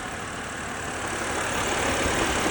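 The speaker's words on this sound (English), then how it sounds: "The motor is very loud." A 2007 BMW 328i wagon engine runs steadily just after a cold start, a dense, loud broadband hum and hiss that holds constant and swells slightly toward the end, with no talk.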